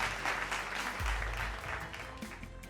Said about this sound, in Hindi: एक बार हाथ उठाकर तालियां बजाएंगे।